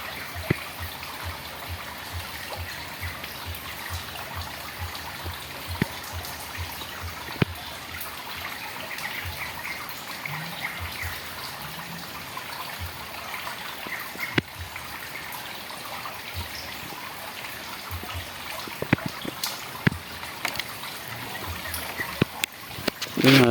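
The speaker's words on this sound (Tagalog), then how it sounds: "Minsan maririnig nyo dito yung brr, brr, parang nanggagani sa ilalim ng tubig." Water of the Agbubulo River, flowing as a quiet, steady trickle and stream with scattered small pops and splashes, heard faint and continuous throughout.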